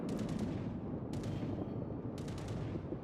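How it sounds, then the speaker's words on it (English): Anti-aircraft guns aboard the battleship Warspite in World of Warships keep up a continuous rumbling barrage with a few sharper bursts breaking through, steady and moderately loud throughout. "The AA crew has finally been able to shoot down that enemy fighter"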